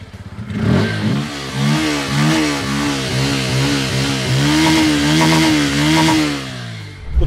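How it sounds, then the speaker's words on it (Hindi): A Bajaj Pulsar P150 motorcycle revs hard, its loud, close exhaust note rising and falling in repeated throttle blips over a steady buzzing drone, with no talking. "थोड़ा ज़्यादा base in terms of exhaust note मेरे को पल्सर P150 में देखने को मिला है"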